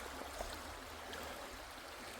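Water pours over slippery rocks at a swimming hole in the Catskills of New York, making a steady, even rushing hiss that fills the whole moment at a moderate, unchanging level.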